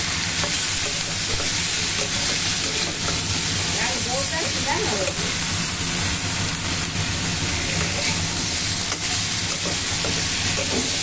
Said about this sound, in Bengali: এবার ভালো করে মশলাগুলো দিয়ে কষিয়ে নেব